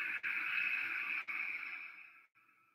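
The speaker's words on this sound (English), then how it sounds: "Breathe out." A long, steady exhale during a power yoga flow, heard as a smooth, airy hiss that holds for about two seconds and then fades and thins out, close and alone.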